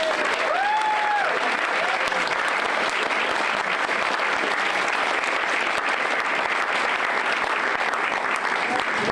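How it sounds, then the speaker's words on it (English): Long, full round of audience applause for the UC Red team at a Pitch for Funds awards event, dense and continuous clapping with a few brief voice-like whoops early on. "Can we give a big round of applause for the UC Red team?"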